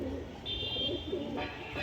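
Pet pigeons at a home loft in Nabadwip give low, continuous coos up close, with a brief higher chirp partway through and a faint voice in the background.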